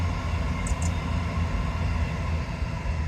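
A passing train rumbles steadily near a beach, a broad low roar that fills the scene, with two short high toots of its horn breaking through early on; no one speaks.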